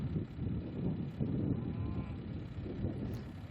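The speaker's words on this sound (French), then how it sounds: "Dans son exploitation, Laurent Pierre prend soin d'environ 110 vaches allaitantes et d'une pension pour chevaux." Suckler cows moo on a farm, a low sustained lowing that carries through most of the stretch, fairly close, with some wind buffeting in the background and no talk.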